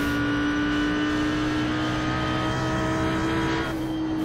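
A steady, loud engine drone of an Audi R8 GT3 in iRacing at Mosport holds a constant pitch throughout, shifting slightly near the end, like a race car held at high revs.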